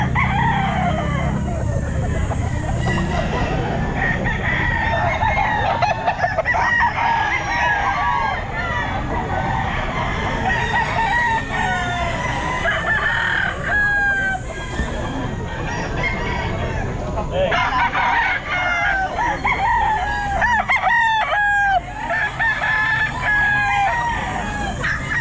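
Several roosters crow repeatedly at a busy pet market in Palawan, close and loud over a steady crowd murmur, with people talking nearby.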